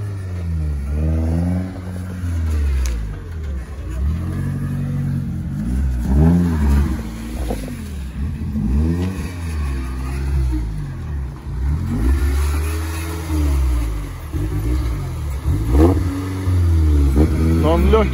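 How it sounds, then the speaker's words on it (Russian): A UAZ off-road vehicle, resembling a Wrangler, revs hard as it reaches the finish of a trophy sprint stage. The low engine roar rises and falls steadily throughout, with someone commentating over it. "первым на финиш приезжает УАЗ"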